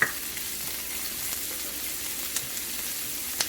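Green beans and chopped onion sauté in hot oil for a dried shrimp curry, sizzling in a steady hiss with a few soft clinks of stirring.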